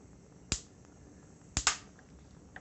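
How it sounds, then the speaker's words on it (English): Sharp gas hob igniter clicks: a single snap, then a quick double click a second later, with a faint tick near the end, in a quiet room. "Light the hob."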